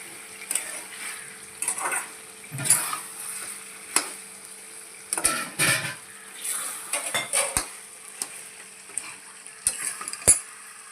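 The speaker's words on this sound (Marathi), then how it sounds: "अशा प्रकारे चिकन चांगलं हलवून" Chicken coated in masala is stirred in a hot pan, with repeated sharp metal spoon clinks and scrapes against the pan over a soft background sizzle.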